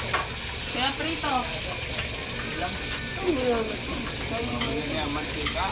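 Steady crackling sizzle of food frying in oil, continuous and close, with a voice talking faintly in the background.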